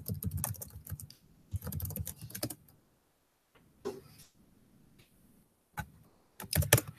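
Terminal command typed on a computer keyboard: close, crisp key clicks in three quick bursts with short silent gaps, then two shorter bursts near the end, with no talking.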